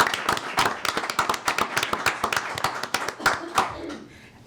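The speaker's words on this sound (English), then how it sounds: "a round of applause" Hands clapping at a city council meeting, a round of scattered, uneven claps from a modest audience, fairly close, with some background murmur fading toward the end.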